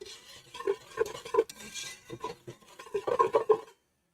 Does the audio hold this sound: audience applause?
no